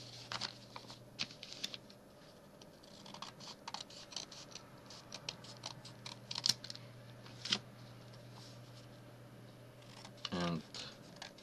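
Scissors snip through folded paper while a notebook gift tag is being made, giving a series of short, close crisp cuts spread across the clip over a steady background hum, with a slightly louder rustle near the end.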